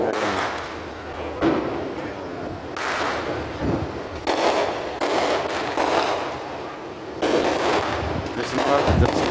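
Fourth of July fireworks and firecrackers go off outdoors in several sharp bursts and crackling volleys spread over about nine seconds, with scattered voices in between.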